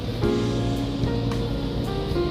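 Strong ocean swell washing steadily around a ship as it turns against the current, a loud, continuous rushing surge with low rumble and no pauses.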